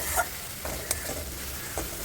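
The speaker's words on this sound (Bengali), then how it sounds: "আর একটা ছোট্ট সাইজের টমেটো, সেটাকেও গ্রেট করে মশলার সাথে কষিয়ে নিচ্ছি।" Grated tomato sautéing with ground spices in a pan for a potato soybean curry, a dense close sizzle with a few soft utensil scrapes and taps, no speech.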